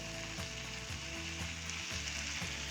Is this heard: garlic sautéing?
yes